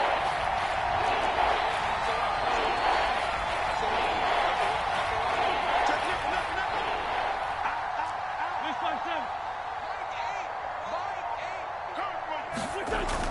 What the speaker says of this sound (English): One of the bigger plays in the game thus far, and the crowd getting into it as we come up on a big third down.